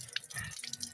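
Water dripping off wet feet, a quick irregular series of close splattering drips and small splashes over about a second.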